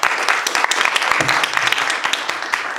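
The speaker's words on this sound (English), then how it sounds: "Let's give them a round of applause." A crowd at a school district meet-the-candidates event gives a loud, sustained round of applause, dense clapping throughout with a few voices mixed in.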